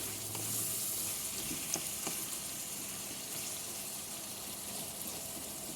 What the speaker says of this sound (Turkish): Şöyle güzelce biraz daha kavrulsun.